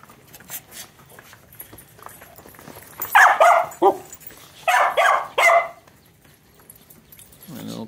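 A puppy gives a few sharp, loud barks in two short bursts after a quieter stretch of small yips and snuffles, close by with no talking.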